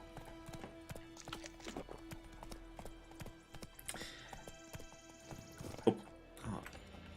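Hooves of the horse Roach clip-clopping in a steady walking rhythm in The Witcher 3, with game ambience, a few sharper effects and a voice speaking over it.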